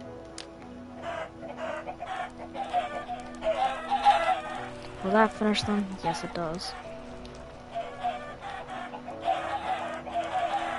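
Minecraft chickens clucking in short repeated bursts while people talk over them, with a few louder squawks partway through.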